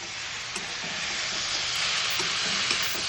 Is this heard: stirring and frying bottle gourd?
yes